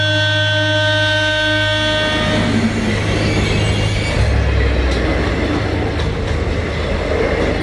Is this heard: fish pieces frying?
no